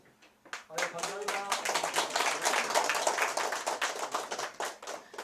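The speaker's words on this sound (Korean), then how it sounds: "한 분 한분 한 분 호명할 때마다 따뜻한 박수 부탁드립니다" Warm applause from a seminar audience as research team members of a Korean herbal tonic group are introduced one by one, dense hand claps building quickly and holding steady, with a voice briefly audible at the start.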